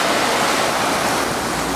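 River water flows in a canyon as a steady, loud, broadband rush with no breaks or other sounds.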